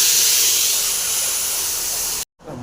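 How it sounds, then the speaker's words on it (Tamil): Ground masala for egg curry poured into hot coconut oil with mustard seeds and curry leaves, giving a loud, continuous close sizzle and hiss that cuts off abruptly near the end. "அடுத்து அரைச்ச மசாலா ஊற்றிடலாம்"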